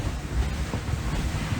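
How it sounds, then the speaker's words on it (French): Strong wind at sea aboard a Vendée Globe racing sailboat, a continuous loud roar of wind buffeting with rushing water, steady and close, no talking. "depuis la deuxième partie de nuit on a un vent bien plus fort et bien plus stable"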